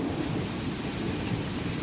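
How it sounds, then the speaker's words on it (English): Thunder rumbling low beneath a steady wash of rain and hail during a hailstorm, dense and continuous over a short stretch with no voices. "Listen to that thunder."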